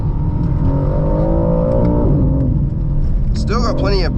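A 2025 BMW M4 CS engine on a driving test, a low steady drone as the throttle is gently squeezed, pitch climbing slowly under a voice talking throughout.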